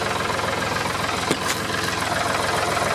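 An old tractor engine idles steadily inside a shed, a continuous low rumbling chug with a faint knocking rhythm, close and fairly loud, briefly joined by a small clank partway through.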